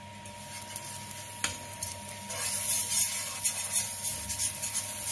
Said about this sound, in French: Une fois la pâte mise dans la poêle, laissez dorer légèrement.